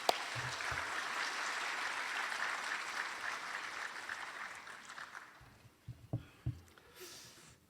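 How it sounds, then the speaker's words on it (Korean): A crowd at a church memorial forum gives welcoming applause to a guest lecturer, loud and dense at first, then thinning and fading, with a few scattered claps and small noises near the end. "우리 박수로 환영하겠습니다."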